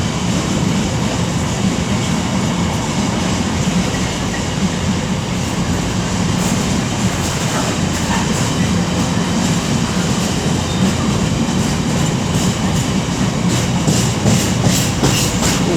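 A train on the West Coast Main Line at Coventry rolls past continuously and loud, its flat wheel adding a repeating rhythmic thump over the steady rail roar and clatter of the wagons.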